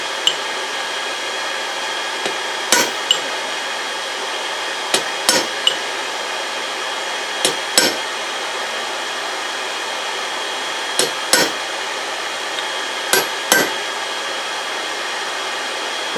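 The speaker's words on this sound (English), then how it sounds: "take a chisel and chisel down through the center of this puppy" A hammer strikes a chisel being driven into hot steel while forging knife tongs, giving about ten sharp metallic blows in loose pairs and clusters over a steady roaring hiss, with no voices.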